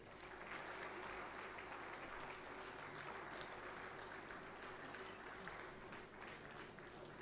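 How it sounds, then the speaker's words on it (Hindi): An audience at a state-level government event applauds continuously and evenly at a distance, a faint steady wash of clapping with a low hum beneath it. "तालियां आप सबकी तरफ से"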